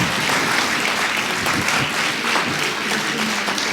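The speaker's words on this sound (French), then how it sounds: "applaudissons-nous fort." Residents at a community assembly in Aiffres applaud themselves in a full, close round of clapping that stays loud and steady throughout, with no speech over it.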